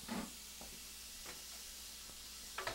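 An onion sautéing in a couple tablespoons of olive oil gives a soft, steady sizzle, close and quiet, with a few light taps and clicks from stirring.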